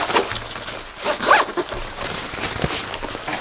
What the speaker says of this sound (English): if you do the zip up like this